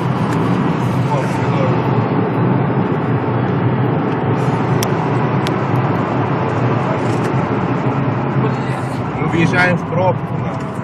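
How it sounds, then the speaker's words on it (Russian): Steady broadband road rumble from a car creeping into a traffic jam, with a continuous engine and tire drone throughout and faint voices mixed in. "Въезжаем в пробку"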